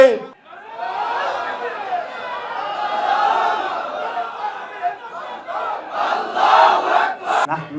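Large crowd at a Jamaat political rally chanting the takbir slogan, a loud massed roar of voices sustained over several seconds with swelling peaks.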